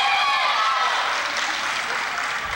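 A crowd at a girls' high school volleyball match claps after a play, a dense steady wash of applause filling the whole moment, with faint voices underneath.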